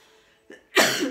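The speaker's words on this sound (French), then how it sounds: "Excusez-moi pour ma toux." A single sharp cough bursts out close by after a faint breathy catch, loud and brief.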